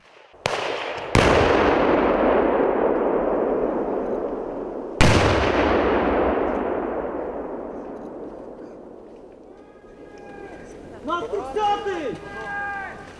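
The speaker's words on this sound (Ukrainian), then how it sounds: "Є і імітація вибухів, і імітація поранення бійця" Two sharp, loud simulated explosions during military training a few seconds apart, each followed by a long rumbling decay, then shouting voices toward the end.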